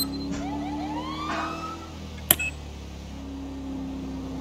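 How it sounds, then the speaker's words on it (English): An ambulance racing past across a pond, its wailing siren sweeping up and down at a distance over steady traffic hum, with a sharp click partway through. "Ambulance across the pond going super fast."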